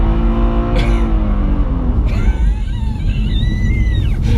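A BMW tuned by AC Schnitzer on Michelin Pilot Alpin 4 winter tyres accelerates hard on a cold surface with the rear wheels spinning up, giving a loud, steady, close engine roar with rising whine as it shifts.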